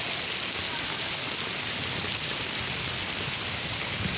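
Steady heavy downpour in stormy Murree weather, a thick unbroken wash of rain hitting ground and flowing water, close and loud throughout without any voices.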